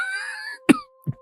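A person coughs twice, one sharp near burst then a softer second cough after a brief pause, following a drawn-out strained moaning breath.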